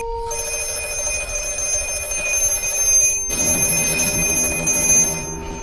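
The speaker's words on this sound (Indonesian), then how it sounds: "Tak lama kemudian, teleponnya pun berbunyi kembali." A telephone rings repeatedly in a tense film scene with a bright, sustained electronic ringing tone that is loud and close and continues without pause, and a low rumble joins partway through.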